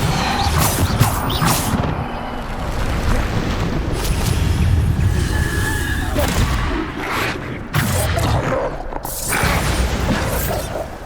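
Bombarda explosion spells go off in the Hogwarts Legacy video game as loud, chaotic booms, crashes and shattering bursts. Mechanical clatter and spoken voices run underneath the blasts.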